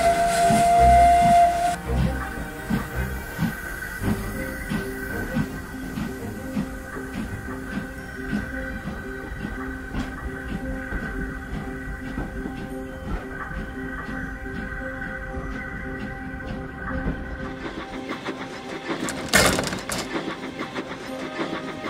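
Thomas the steam engine pulls coaches along, with a long shrill steam whistle over a chuffing, rattling rhythm of the train, followed by a sharp burst of hiss near the end.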